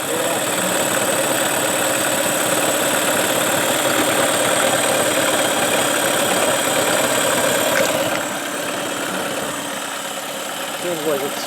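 A Mercury Marine 9.9 outboard motor on a Tracker boat, smoking when throttled, runs with a steady loud mid-pitched drone that drops slightly in level near the end, while people talk over it.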